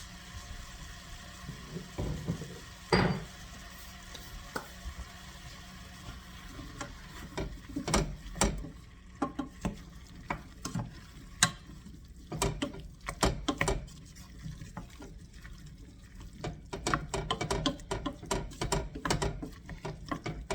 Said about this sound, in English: If you do not think a mortar and pestle can grind this stuff into fine powder, you can.